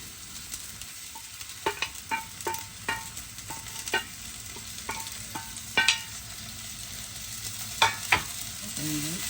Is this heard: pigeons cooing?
no